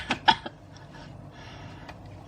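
Short bursts of coughing at the start, two or three quick sharp coughs in a quiet room during a spoken tarot card reading, followed by faint background noise.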